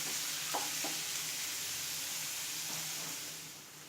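Onions with ginger sizzling gently in a pan over low heat, a soft continuous hiss with a few light stirring scrapes, fading slightly toward the end.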